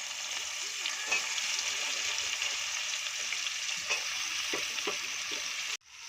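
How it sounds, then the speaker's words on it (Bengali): Onions sizzling steadily in hot oil with bay leaf, dried chilli and cumin for Bengali basanti pulao, a continuous close frying hiss with a few soft stirring knocks, cutting off abruptly near the end. "পেঁয়াজটা ভালো করে লো আঁচে লাল লাল করে ভেজে নেব"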